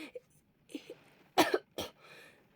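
A few short, dry coughs close by, two sharp bursts after some faint throat sounds, with quiet breathing between.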